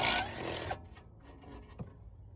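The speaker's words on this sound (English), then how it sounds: "So getting our ratchet in." A hand ratchet turns a 13mm caliper bolt on the front brakes of a 2016 Audi A5 B8, giving a brief burst of fast metallic clicking up close, then a few faint scrapes and taps.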